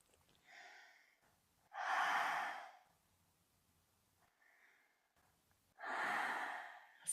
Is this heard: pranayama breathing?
yes